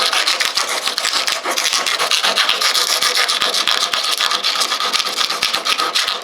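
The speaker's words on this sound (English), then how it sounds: "what I'm using here is just a small wood rasp, but it works pretty good to clean up the edges." A small wood rasp scrapes along the edges of a polyurethane resin and fiberglass casting in rapid, rhythmic rasping strokes, close and loud, with no talking.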